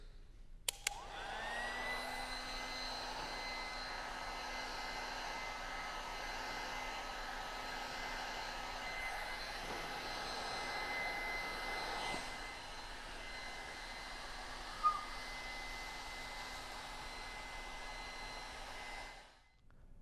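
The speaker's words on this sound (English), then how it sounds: "So let's heat the film and stretch it into the recess" A heat gun blows hot air onto vinyl film, a steady close rushing hum running nearly twenty seconds with a couple of faint clicks, then cutting off.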